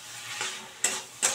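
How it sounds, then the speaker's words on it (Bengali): Chicken keema being stirred in a cooking pan, with a faint sizzle of frying underneath and two sharp scraping strokes of the spoon against the pan, close and clear with no talking. "আমি চিকেন কিমাটাকে এর সঙ্গে ভালো করে মিশিয়ে নিয়েছি"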